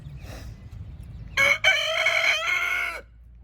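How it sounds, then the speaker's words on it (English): An Americana rooster crows once, loud and close, a long harmonic call rising and then trailing off, with faint background noise before it. "Americana rooster"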